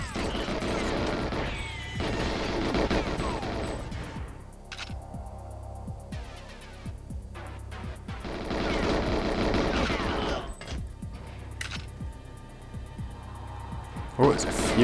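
Loud bursts of gunfire from the N64 video game GoldenEye, repeated rattling volleys and crashes in a dam facility level, mixed with game music and effects.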